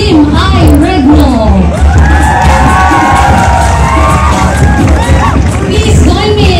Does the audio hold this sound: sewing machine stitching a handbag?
no